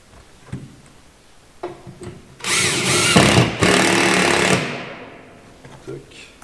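A power screwdriver drives a screw into wood at a pallet-rack workbench, giving one close, loud whirring burst of about two seconds between quiet handling clicks.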